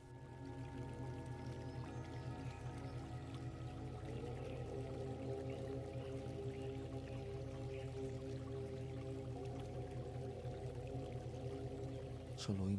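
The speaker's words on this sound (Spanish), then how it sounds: "Solo oímos el agua" Soft water drips fall in a quiet meditation setting, faint and scattered beneath a steady bed of sustained, resonant Tibetan singing bowl tones.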